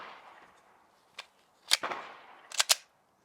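Simunition blank rounds fired in a few sharp reports, one faint pop followed by louder close cracks, including a quick double shot near the end, against near silence.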